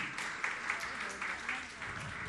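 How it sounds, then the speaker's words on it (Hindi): Applause from the audience at a Jain monk's question-and-answer session, a steady patter of many hands that swells and dips in uneven waves over a couple of seconds with a murmur of voices beneath. "आप लोग जोरदार तालियों से एक बार स्वागत कर दें।"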